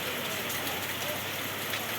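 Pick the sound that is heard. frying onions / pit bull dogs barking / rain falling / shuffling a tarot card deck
rain falling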